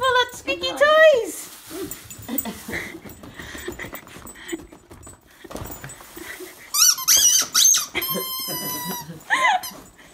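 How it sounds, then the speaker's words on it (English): Squeaky toys in a dog's puzzle book squeak in sharp, high bursts at a Christmas gift opening, mixed with a dog's panting and whimpering and some background talk. "It's a puzzle book full of squeaky toys."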